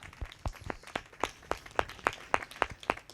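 Steady rhythmic clapping from a church congregation during a Christmas midnight service sermon, sharp distinct claps repeating roughly every quarter second at moderate volume.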